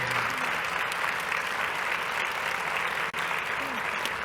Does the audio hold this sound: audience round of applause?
yes